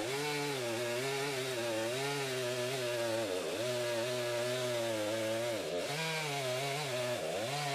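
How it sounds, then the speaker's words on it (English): A DeWalt 60V cordless chainsaw, model DCCS677, cuts through wood with a steady, strong whine. The pitch dips briefly as the chain bites, then holds without bogging down, close and continuous with no voices. "if you listen to the audio of the saw, you can hear that it never bogs down, it just keeps going strong"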